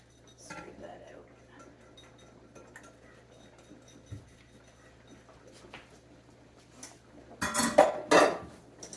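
Brown sugar, spices and salt scraped out of a bowl for rhubarb BBQ sauce, a few quiet clinks and taps followed by two louder, close scraping clatters of utensil on dishware.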